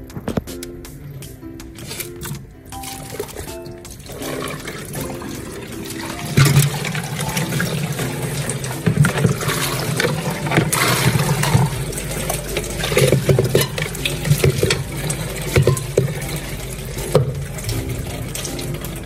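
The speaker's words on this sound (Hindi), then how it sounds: "इसके ऊपर थोड़ा सा और हॉट वाटर डालते हैं ताकि क्लियरली जो है वो मुकम्मल हो जाए" Hot water poured over built-up ice inside a faulty LG fridge freezer that is not cooling, making a steady, close splashing and trickling flow that continues for most of the stretch after a few quieter clicks at the start.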